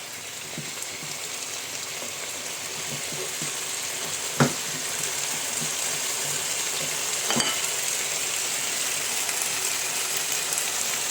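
Chicken pieces fry in cooking oil for Filipino adobo, a continuous close hiss of sizzling with scattered pops and two sharp clinks from a utensil.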